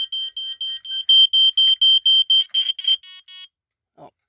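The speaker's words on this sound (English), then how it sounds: "It's got a fast pulse piezo." A Code One React smoke alarm's fast-pulse piezo sounds close and loud as rapid, shrill beeps that stop after about three and a half seconds, followed by a brief low thump.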